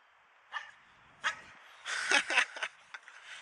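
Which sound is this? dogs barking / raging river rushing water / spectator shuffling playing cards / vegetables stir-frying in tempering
dogs barking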